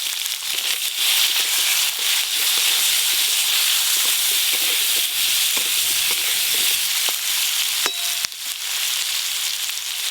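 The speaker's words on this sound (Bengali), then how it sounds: "এই যে কাঁচা টমেটোগুলো 4 টুকরো করে কেটে নিয়েছে, এগুলো ভালো করে ভেজে নেব।" Raw green tomatoes cut into quarters sizzle loudly in a pan with turmeric and salt, a steady bright frying hiss running throughout with a few sharp pops and crackles, no talking.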